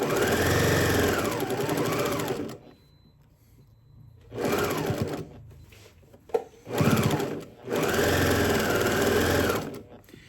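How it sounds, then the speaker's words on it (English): A sewing machine runs in three sustained bursts of stitching across a bag handle on a self-lining fabric bag, loud and close, with quiet pauses between runs and a brief knock in one gap. "I'm stitching right over the top of that handle"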